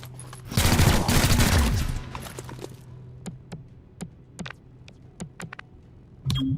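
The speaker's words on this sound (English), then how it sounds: "So scatter shot just worked with the shotgun." A shotgun blast in XCOM: Chimera Squad, one loud roaring discharge followed by a series of sharp, spaced clicks and taps as the game continues, with no one talking.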